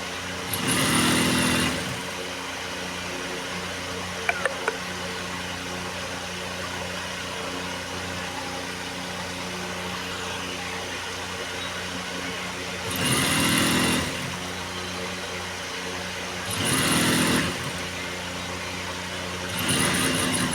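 Sewing machine stitching the outer side seam of palazzo trousers, heard as short loud bursts of rapid whirring at the start and again several times near the end, separated by long stretches of steady background hum and low room noise.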